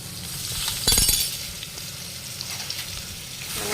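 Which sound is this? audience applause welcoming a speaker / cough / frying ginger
frying ginger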